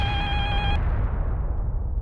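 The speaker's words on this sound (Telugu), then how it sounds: "సునందమ్మ గారు ఫోన్ చేస్తున్నారు." A telephone rings with a bright electronic tone that cuts off abruptly after under a second, leaving a dull background hum.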